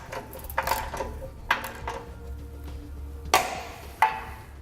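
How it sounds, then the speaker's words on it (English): Bolts holding the beam of a Roadmaster crossbar-style base plate kit are tightened on a 2015 Chevrolet, with a few sharp metallic clicks and clanks from the tool between softer ratcheting handling noises, close by and with no talk. "Let's go ahead and tighten down 4 bolts holding on our beam."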